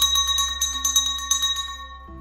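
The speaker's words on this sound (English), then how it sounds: "using a bell is a way to signal the start of the ceremonies and to invite and welcome the ancestors." A small bell rung to open a spiritual ceremony, struck in a quick series of bright, ringing chimes that overlap and sustain, then a softer clink at the end.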